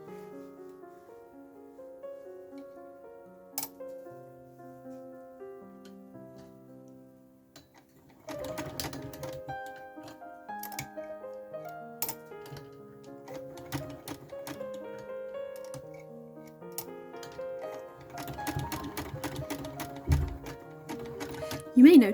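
A sewing machine stitches a vintage hat with a rapid mechanical ticking, quiet at first and then denser in short runs. Someone talks over it and music plays softly beneath.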